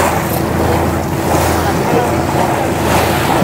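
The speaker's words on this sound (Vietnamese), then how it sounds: "ở đây thì sóng nước vỗ rất là đẹp" River water slaps and washes steadily against a boat on the Hau River at Ninh Kieu wharf in Can Tho, a close continuous splashing with a low engine-like rumble underneath.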